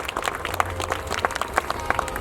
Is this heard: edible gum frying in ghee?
no